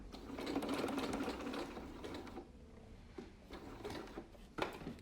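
A sewing machine stitches lightweight fabric for ultralight running and hiking gaiters, running in an uneven burst that fades and restarts with brief mechanical clicks and pauses.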